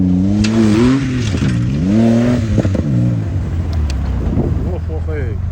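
A Chevrolet Trailblazer drives off-road near Piskent, its engine revving loudly and close, rising and falling in several strong surges as it works through the terrain. Voices talk over parts of it.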